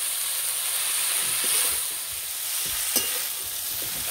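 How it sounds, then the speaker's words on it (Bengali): Malabar spinach frying with spices in a hot pan for a Bengali fish-head dish, a continuous loud sizzle and hiss close by, with soft stirring scrapes and one sharp clink. "পুঁই শাকটা মশলার সঙ্গে কিছুক্ষণ ভেজে নেব।"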